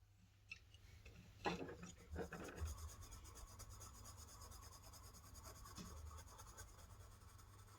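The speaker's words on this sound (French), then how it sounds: "On va faire un petit aplat de couleurs sur du papier." Handmade colored pencils shading a flat patch of yellow onto paper give a soft, steady scratchy rasp, quiet and close, with a few louder strokes early on and no talking.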